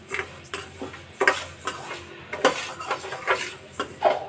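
A spoon scrapes and clinks against a pan while stirring a dry fruit mix being fried for baby food, with repeated close metallic strokes in a steady, uneven rhythm and no voices.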